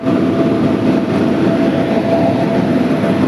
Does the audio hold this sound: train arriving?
yes